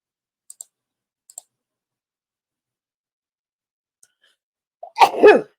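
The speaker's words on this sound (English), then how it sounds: "I have a sneeze coming." A single sharp sneeze bursts out close by after a stretch of near silence broken only by a few faint clicks.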